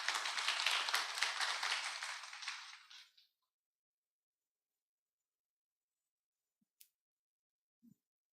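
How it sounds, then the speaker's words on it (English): Applause from a symposium audience fills the first three seconds as dense, even clapping that fades out. Silence follows, broken only by a couple of faint isolated clicks. "Please give Mr. Hwang with a big applause."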